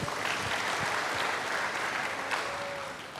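A church congregation applauding, a broad, even wash of many people clapping together, fairly loud and sustained before tapering slightly at the end.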